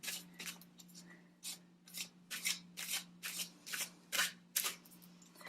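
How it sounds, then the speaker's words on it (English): Tarot cards are shuffled by hand in a quiet room, a rapid series of about a dozen crisp riffling bursts in an uneven rhythm, close and clear over a low steady hum. "You can fast forward this if you don't want to see me shuffle"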